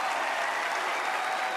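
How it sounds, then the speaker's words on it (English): Audience at a televised talent show applauds steadily, a dense, loud wash of clapping that holds evenly throughout with no voices over it. "Give a big round of applause."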